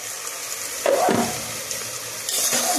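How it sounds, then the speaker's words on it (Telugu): Onions frying in oil, a soft continuous sizzle broken by a couple of louder scraping stirs and a brief splashy clatter, with no talking. "ఉల్లిపాయలు అయితే మరి ఈ విధంగా మా నూనెలో అయితే మామూలుగా ఎర్రగా వచ్చేదాకా అయితే వేయించుకోవాలండి"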